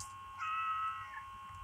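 A cat meows inside a video game, a single drawn-out meow rising and falling over a quiet backdrop with no talking.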